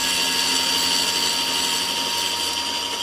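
A power tool cuts a metro tile for a kitchen splashback, a loud, steady high-pitched whine with constant tonal ringing that holds for the full three seconds without a break or talk.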